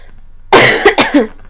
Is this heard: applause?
no